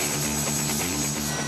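A twin-rotor HC-2 Chinook military helicopter flies close and loud, its engine roar steady with a rapid rhythmic blade thump running throughout.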